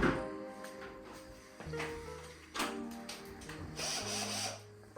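Power drill driving fixings for the legs of a teak sideboard, several short whirring bursts with rising and falling pitch, separated by pauses, at close range.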